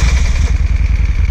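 A motorcycle engine runs loud and close just after start-up, a steady rough idle with a throbbing low rumble and no revving.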